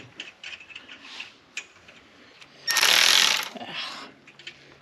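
A ratchet wrench works on the steering clutch linkage of a 1939 Caterpillar D4 crawler tractor, with short clicking bursts, a louder sustained ratcheting run in the middle and scattered clicks after it, close and unaccompanied by talk.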